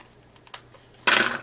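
Paper being trimmed for a handmade card: a couple of faint snips followed by one louder, crisp cut, close and alone.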